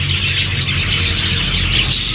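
Lovebirds in a large aviary: a dense, continuous chorus of high chirps and tweets from many birds close by, with a steady low hum underneath and no talking.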